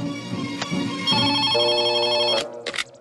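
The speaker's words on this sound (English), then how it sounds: "Oh, wait, the phone." A cartoon telephone rings indoors with a steady electronic trill, clear and close, and stops just before the end.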